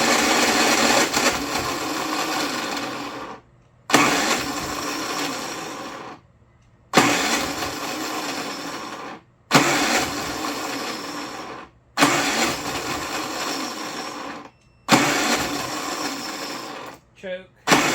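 Predator 3500 watt inverter generator with a carburetor and no choke, being pulled over repeatedly: five loud bursts of a few seconds each, separated by short silent gaps, with a low rumble between attempts and no sign of the engine catching.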